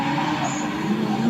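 A race car with a stiff carbon-carbon on-off clutch making a bad launch, steady loud engine drone with tire skid noise throughout, close and continuous.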